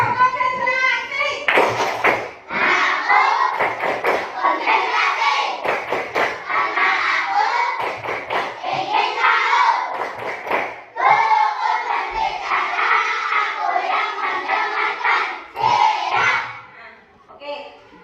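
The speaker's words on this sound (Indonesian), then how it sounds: "Kita lakukan dulu tepuk konsentrasi." Primary school pupils in a classroom doing a rhythmic concentration clap, loud group chanting punctuated by sharp, patterned bursts of hand claps, with a teacher's voice mixed in.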